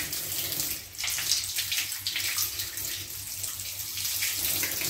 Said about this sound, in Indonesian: Pertama kita bilas kedua tangan kita.